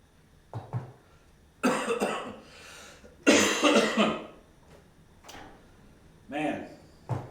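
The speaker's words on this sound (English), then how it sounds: "I just can't shake this cough that I've got." Several harsh coughs come in separate bursts, close to the microphone, with brief quiet pauses between them and a little throat clearing.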